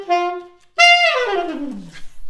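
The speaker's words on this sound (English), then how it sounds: "The saxophone is a woodwind instrument." A saxophone plays close and clear: a short held reedy note, a brief pause, then a louder note that slides steadily downward in pitch before fading.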